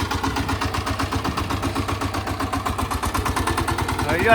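A diesel tractor engine runs with a steady low chugging idle throughout, loud and close, with a slight rev rising at the very end.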